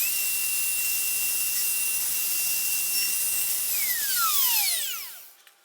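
A WoodRat router whines steadily at high pitch while cutting a comb joint socket in wood, then spins down with falling tones and stops near the end.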